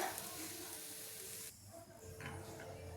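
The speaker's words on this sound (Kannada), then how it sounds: "ಟೊಮೊಟೊ ಹಣ್ಣು ಬೇಗ ಸಾಫ್ಟ್ ಆಗಲಿ ಅಂಥೇಳಿ ಸ್ವಲ್ಪ ಉಪ್ಪನ್ನ ಹಾಕ್ಕೊಂಡು ಮತ್ತೆ ಫ್ರೈ ಮಾಡ್ಕೊತಾ ಇದ್ದೀನಿ" Tomato and onion fry in a pan with a pinch of salt, giving a steady broadband sizzle with brief stirring, close and continuous, dipping briefly midway before resuming.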